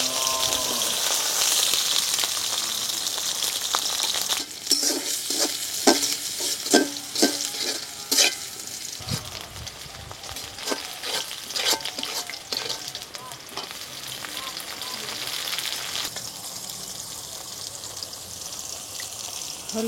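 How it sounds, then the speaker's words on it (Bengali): Onion and green chili fry in a pan with a loud, bright sizzle that surges as they hit the oil, followed by stirring scrapes and clatter and a steady crackling hiss. "দিয়ে দিলাম পেঁয়াজ আর কাঁচামরিচ দিয়ে দিলাম।"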